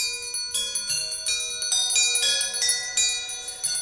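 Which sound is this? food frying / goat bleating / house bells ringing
house bells ringing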